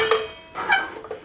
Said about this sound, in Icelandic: Ég byrja alltaf á því að setja pottinn á